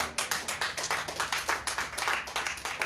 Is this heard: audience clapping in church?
yes